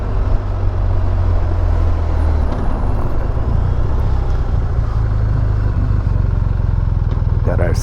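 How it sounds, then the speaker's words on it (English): A school bus rumbles past on the road, its low engine drone loud and steady near a motorcycle service stop, with a brief air-brake hiss toward the end. "Got ourselves a school bus."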